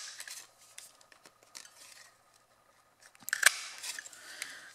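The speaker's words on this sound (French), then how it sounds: "Ma chute de papier avec une perforatrice 3/4 de pouce, je vais couper 2 petits ronds" Quiet crisp clicks and snips of a 3/4 inch paper punch cutting small circles from cardstock scraps, a few sharp close cuts with a louder punch near the end.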